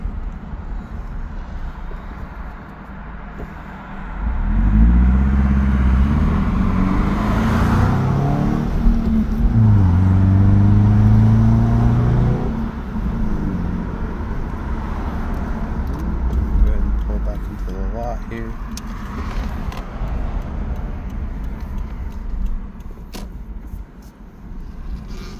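A 2015 Subaru Crosstrek XV driven on a road, its engine revving up and easing off through gear changes, then slowing under braking with steady road noise close by; no speech is heard.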